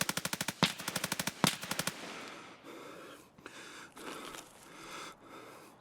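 Automatic gunfire in the shooter game Escape from Tarkov, with two rapid bursts of evenly spaced loud shots up front, then a rumbling, echoing tail with scattered distant cracks and movement noise.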